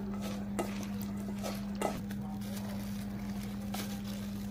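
Chopped coriander leaves, onion, tomato, cucumber and green chilli being stirred together in a bowl, giving soft scraping and a few light knocks over a steady low hum.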